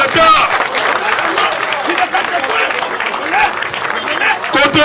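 A crowd applauds and cheers continuously at a political rally in Congo, a dense loud wash of clapping that holds steady throughout.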